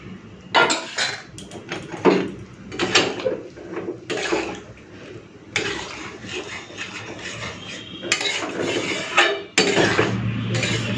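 A spoon stirs boiled peas with water in a pot of spiced ghugni. Irregular close clinks, scrapes and knocks of metal against the pot repeat throughout.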